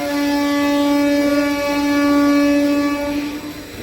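A DEMU train pulls into platform 1 at Dupadu railway station, giving a loud, sustained tonal horn or whine that holds steady for about three seconds and then fades as it stops.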